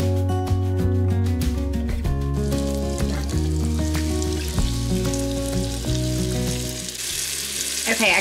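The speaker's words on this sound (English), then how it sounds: "we're gonna go over to the stove and just sear these on both sides" Floured meat searing in a hot pan on a stovetop, giving a continuous sizzle that sits under loud, steady background music throughout.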